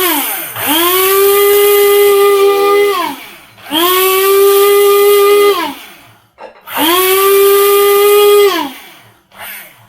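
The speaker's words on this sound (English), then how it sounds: "I've put my coffee together with the cloves, so I'm going to be blending them together" A blender grinds coffee together with cloves in three loud bursts, each rising to a high, steady whine and then winding down, with brief pauses between runs and no speech.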